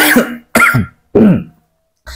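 Three harsh, close coughs in quick succession, each a short burst separated by brief silences, followed by the start of another.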